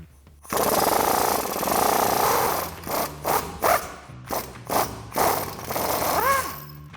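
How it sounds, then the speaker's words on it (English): A 21mm swivel socket spins off the lower front strut bolt on a Chevrolet Silverado 1500. A loud, sustained mechanical run is followed by a string of short, sharp bursts as the bolt breaks free, close up and with no speech. "I'm gonna take a 21mm swivel socket and a 21mm wrench and pop the lower bolt out first"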